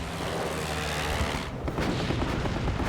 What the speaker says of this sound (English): Bismarck's anti-aircraft gunners desperately filled the sky with flak